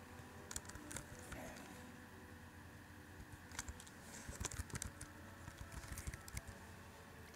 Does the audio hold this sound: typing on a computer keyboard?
yes